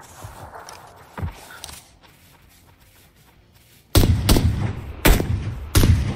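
M16 rifle fire in the PUBG Lite video game, four sharp, loud single shots spaced about a second apart after a quieter stretch with faint movement noise.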